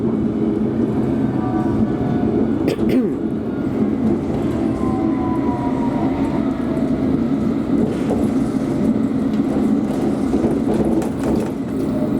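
A train bound for Watford rolls along steadily, a continuous loud rumble with faint metallic squeals and brief clatters over the track, no voices.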